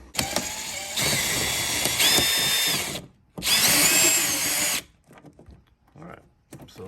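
Power drill running on a 10mm bolt on a 2021 Jeep Wrangler fender: two loud sustained whirring bursts with a short pause between them, close to the microphone, then quieter handling noises.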